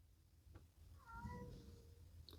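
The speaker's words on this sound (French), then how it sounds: "j'ai mon chat qui miaule derrière" A cat meows softly in the background of a quiet room during a crochet session, one faint drawn-out call, then a brief second one.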